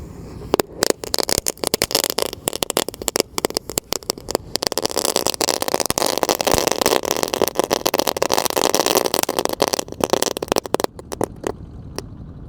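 Firecrackers, including whistling thunder and dino eggs, burst in a hole in the ground, giving a dense, continuous crackle of rapid pops and bangs that goes on for about ten seconds before dying off.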